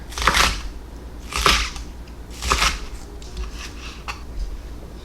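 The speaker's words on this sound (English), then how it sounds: "So I'm going to cut these sort of on the bias" A knife slices scallions diagonally on a cutting board, three or four distinct crunchy cuts spaced about a second apart, close and fairly loud over a low hum.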